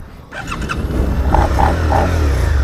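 A 2018 Suzuki SV650 twin-cylinder motorcycle engine, heard up close as it starts off and revs up into a loud, steady drone that holds to the end.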